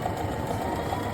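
A sewing machine runs steadily while sewing a stretch stitch, three stitches at once, giving a continuous close mechanical whirr with an even rapid rhythm.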